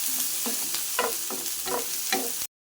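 Onion, garlic and green chilli sautéing in hot oil, right after mustard seeds crackled, give a steady close sizzle with a few rhythmic scraping stirs, with no talking.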